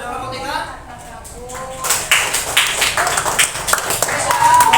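Classroom applause rises for groups 1 and 3 at an elementary school, a burst of many hands clapping that follows a teacher's voice and carries on unevenly to the end.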